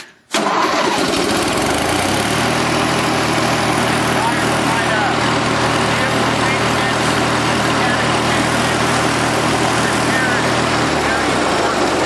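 A small engine with a replaced choke cable, started on partial choke with the clutch held in, fires up and settles into a loud, steady, rough running drone that fills the whole stretch.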